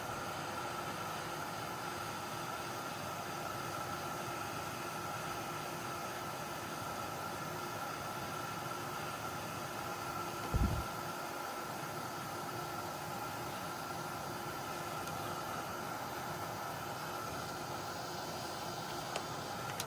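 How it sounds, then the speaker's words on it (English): Steady loud rushing, blowing noise from a heat gun runs throughout without letting up, with a brief low thump partway through. "we get our heat gun"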